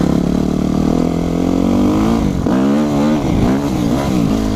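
A Yamaha YZF 250 motorcycle revs hard during a wheelie, its loud, close engine holding a buzzing drone, then swooping up and down through several sharp throttle surges.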